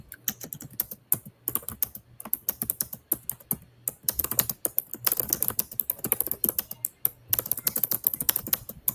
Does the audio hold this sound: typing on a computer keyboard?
yes